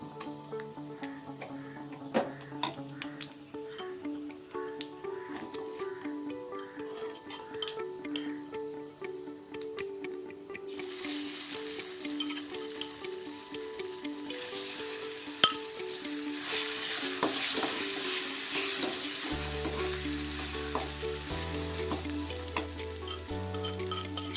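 Tempering spices sizzle and crackle in hot oil for a raw cucumber chutney, with steady frying hiss punctuated by stirring clicks and taps against the pan.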